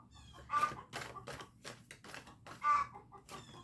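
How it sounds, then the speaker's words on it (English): A chicken clucks close by in a series of short, irregular bursts, with a couple of higher squawks standing out against a quiet background. "And my chicken confirmed that."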